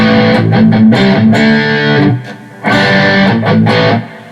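A loud, gritty distorted Crestwood Strat copy electric guitar plays sustained chords and notes, with a brief pause before resuming, close and alone.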